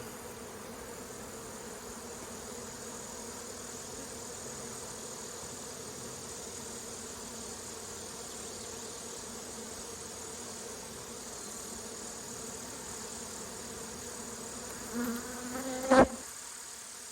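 Honey bees hum steadily around an opened hive during a Saskatraz queen and equalization check, a dense, even buzz holding close throughout, with a brief louder rustle near the end.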